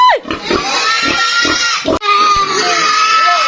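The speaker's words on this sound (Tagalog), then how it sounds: "kakatayin natin yung baboy" A pig squeals loudly and continuously just before slaughter during a rural family gathering in Bilar, Bohol, its harsh, strained cries running unbroken for several seconds with a brief break midway and people audible nearby.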